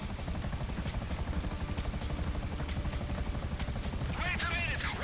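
Helicopter in the GTA 5 video game, a steady, loud rotor chop and engine drone running continuously with a pulsing rhythm throughout, with faint game sounds rising near the end.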